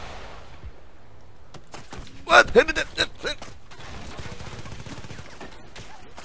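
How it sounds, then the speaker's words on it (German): Mortar explosions and gunfire in the video game Battlefield: Bad Company 2 on the Arica Harbor map: a cluster of sharp, loud blasts and bursts in the middle, with a faint voice and low background rumble around them. "Seht mal, Mörser."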